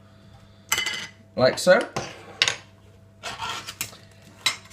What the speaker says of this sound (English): all I'm going to do now is remove the lids